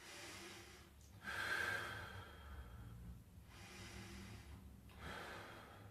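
Slow, deep breaths held during a standing quad stretch, a long audible inhale and exhale repeating softly and close, with no talking.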